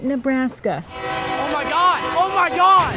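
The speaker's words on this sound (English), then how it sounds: "A train derailment caught on camera." Coal train derailing on a railroad track in Bennett, Nebraska, its horn blaring loudly and sliding in pitch while someone shouts in alarm over the noise.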